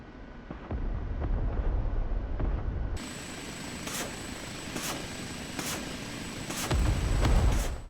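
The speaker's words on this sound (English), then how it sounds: "So it's going to alternate left to right, right to left, and just launch a rocket per impulse." Unguided rockets launched one at a time from alternating pods on an OH-58D Kiowa Warrior helicopter in DCS World, several sharp whooshing bursts spaced about a second apart over continuous rotor and engine rumble.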